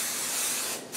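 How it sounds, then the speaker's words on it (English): Spray adhesive hisses from an aerosol can while basting a quilt on a small dining table, one close continuous burst that briefly stops near the end and resumes. "I'm gonna go ahead and continue spray basting."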